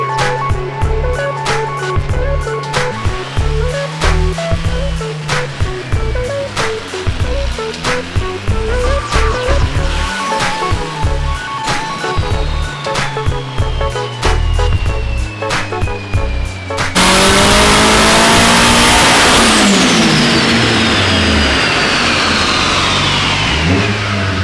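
Turbocharged 2.4-liter four-cylinder engine revving hard on a dyno, loud and close, with rising and falling pulls and a sharp whooshing surge near the end.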